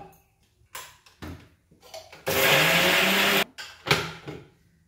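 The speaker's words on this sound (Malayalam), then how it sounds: "ചൂടാറിയട്ടോ, നമുക്ക് അരക്കാം." A mixer grinder blends sautéed onion, tomato, green chili, ginger, curry leaves, garlic, coriander leaves and salt into chutney: one loud, steady whir of about a second, with knocks and handling noises before and after.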